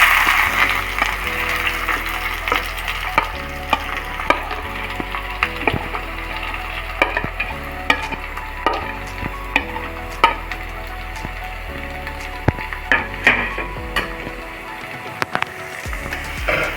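Two medium onions sizzle steadily in hot oil over already-fried mustard seeds for South Indian adai, with frequent sharp spatula clicks and scrapes from stirring throughout; no one speaks.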